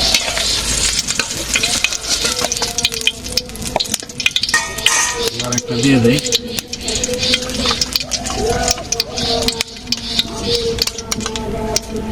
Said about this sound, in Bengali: ডিম ভাজিটা হয়ে গেছে